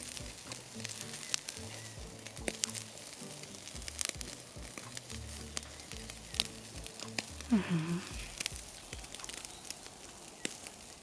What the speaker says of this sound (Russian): Пока жар максимально большой, начинаю жарить большие куски, такие как с задней ноги и седло